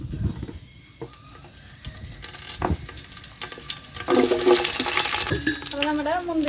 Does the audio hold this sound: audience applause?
no